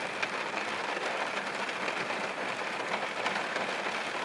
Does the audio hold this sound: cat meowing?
no